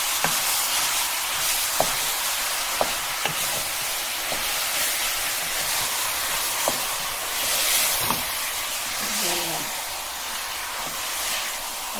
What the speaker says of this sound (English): I'm gonna mix it and try to break the ground meat